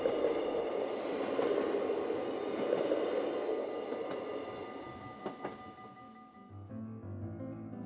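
A train rolls past on the railway line at the northern edge of a residential neighbourhood in Groningen, with a steady rumble and wheel noise that slowly fade, plus faint clicks, and no voices.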